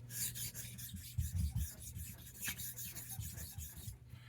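A straight razor, an ERN Celebrated, has its bevel set on a 1k Chosera whetstone in quiet, rhythmic rasping strokes of steel rubbing against stone.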